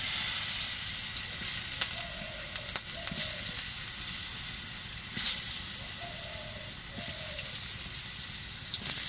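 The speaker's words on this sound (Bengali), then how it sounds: "চাকগুলো ভালো করে ভাজিয়ে নেব মাছ ভাজার মতো।" Slices of sweet pumpkin fry in hot oil with a steady, close sizzle, broken by a few sharp clicks and utensil knocks.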